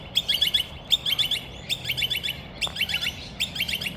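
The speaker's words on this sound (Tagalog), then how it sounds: "Ayan, dami ibon no." Birds chirp in quick repeated bursts of bright, rapid trills, fairly close, with a quiet outdoor background in Australia.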